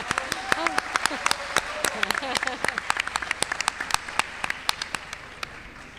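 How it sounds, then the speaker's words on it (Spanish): Audience at a national social work congress in Argentina gives a speaker warm applause, a fairly loud burst of many separate claps that tapers off, with a voice speaking over the start. "a quien le damos la palabra y un caluroso aplauso"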